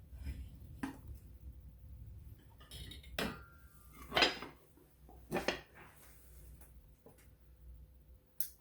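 Heavy iron skillet and plate handled while flipping a pineapple upside-down cake, with sharp metallic clinks and knocks spaced irregularly over soft kitchen handling, close and fairly quiet.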